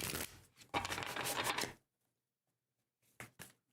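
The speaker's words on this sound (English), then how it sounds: "A little bit more of a shuffle here." A deck of tarot cards is shuffled by hand at close range, bursts of quick riffling and sliding, a longer run, then a pause and a few softer taps.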